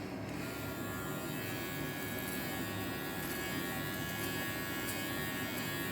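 A SURKER professional hair clipper with a ceramic blade buzzes steadily while cutting hair, a constant low electric hum, close and fairly quiet, running without pause and with no talk.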